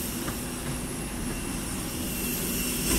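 Jet airplanes take off at an airport, a steady roaring engine rumble swelling slightly louder toward the end, heard from a distance with no talking.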